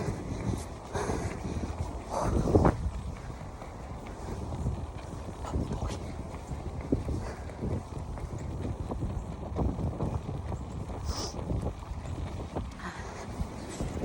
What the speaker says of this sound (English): Look how strong the wind is.